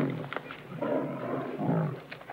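A male lion on the Serengeti growls over a wildebeest carcass, low rumbling growls rising and falling in short bursts, fairly faint and close.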